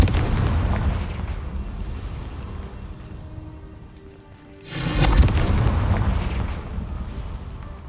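A Confringo fire spell explodes in the video game Hogwarts Legacy: a loud blast bursts out midway over a rumbling background, then a heavy roar lingers and slowly fades.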